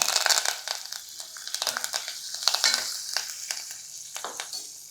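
A tempering of dried red chillies, asafoetida, green chilli pieces and curry leaves fries in hot oil, crackling and spitting in irregular close bursts that settle into a softer sizzle.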